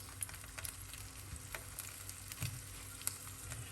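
Salmon sizzling and frying in a pot, a faint, steady crackle with scattered small pops and occasional stirring sounds, alone without talk.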